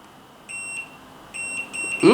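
Continuity tester beeping while probing a laptop power connector on a Compaq Contura Aero 4/25, several short high-pitched electronic tones of uneven length, ending under a burst of nearby speech.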